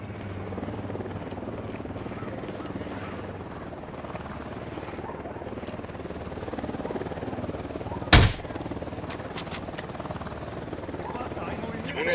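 Military helicopter in the video game Ghost Recon Wildlands, a steady rotor drone running throughout with a sharp burst of gunfire partway through and faint game voices beneath.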